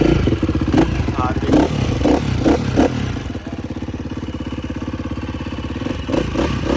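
A motorcycle at a hub rally event idles close by with a steady, throbbing engine note and a few short revs and clattering bursts. Faint voices can be heard in the background.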